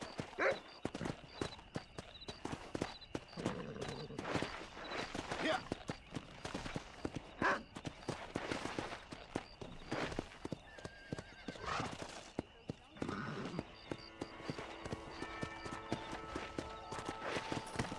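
Horse hooves clip-clopping at a steady galloping pace in the Western video game Red Dead Redemption, with occasional whinnies and neighs, while someone talks over the hoofbeats throughout.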